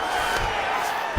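Arena crowd at a UFC fight cheering and roaring in a brief, loud, steady wash of voices as the fighters get back to their feet.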